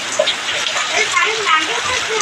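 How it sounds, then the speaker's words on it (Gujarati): Heavy rain pours down outdoors over a rice paddy transplanting field: a dense, steady, close hiss of downpour with scattered splashes throughout, with faint voices underneath. "ધમધોકાટ વરસાદ પડી રહ્યો છે મિત્રો,"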